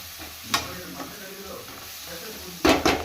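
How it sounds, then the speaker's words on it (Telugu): Chicken livers and gizzards frying with mint in a pan, a steady soft sizzle broken by a few scraping stirs and a louder double clatter of the spoon near the end. "పుదీనా వేసి కలిపేసుకుందాం"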